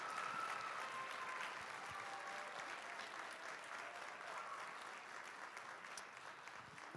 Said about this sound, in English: please just give them a big round of applause.